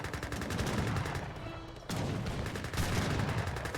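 Massed Gatling gun volleys in the Age of Empires strategy game, a continuous loud rattle of rapid fire with a brief break midway before the firing resumes, no speech.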